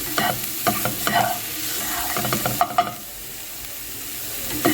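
A bitter gourd peel mixture sizzles and fries in a pan while a spoon stirs and scrapes it in bursts, the clatter close and intermittent over a constant hiss, with no talking.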